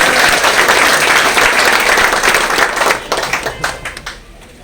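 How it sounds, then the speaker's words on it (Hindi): An audience at an opening event in Bhagalpur claps loudly and steadily, a dense wash of applause that thins out toward the end into scattered individual claps. "मैं उनके लिए फिर से चाहूंगा जोरदार ताली"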